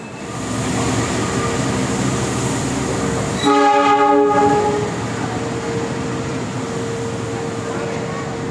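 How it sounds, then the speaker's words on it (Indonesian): Station ambience inside Yogyakarta railway station, Indonesia, with a low train rumble and hum, interrupted by a loud harmonic horn blast lasting about a second before the rumble resumes. "Ini suasana masih di dalam stasiun Jogja."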